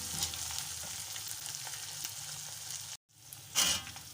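Green chutney hits hot oil with golden garlic, green chilies and cumin, giving a dense, steady sizzle and frying crackle that breaks for a moment, then flares up louder as more is added.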